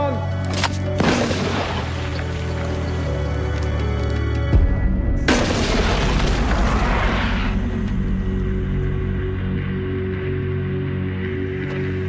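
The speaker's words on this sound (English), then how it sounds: "this one fires the grapnel and rope over 150 feet up the cliffs" A rocket-fired grapnel trailing rope launched up a cliff face like Pointe du Hoc in a D-Day Ranger demonstration: a sharp loud boom and whoosh, then a second burst of roaring rush that fades over several seconds amid outdoor rumble.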